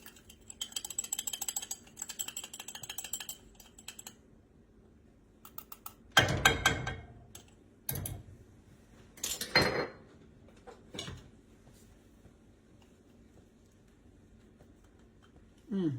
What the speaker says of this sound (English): I'm going to whisk in 2 tablespoons of cornstarch